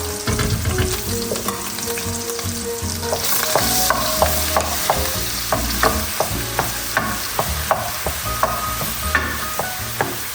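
Mushroom paste cooks down in a pan with a loud, close, continuous sizzle, while a utensil stirs and scrapes it in frequent quick clicks and taps and nobody speaks.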